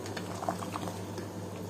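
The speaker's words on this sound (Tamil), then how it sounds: "நல்லா கொதிக்குது" Vegetable biryani bubbling at a steady boil in a pot, a dense low hiss with scattered small pops close by, no voices.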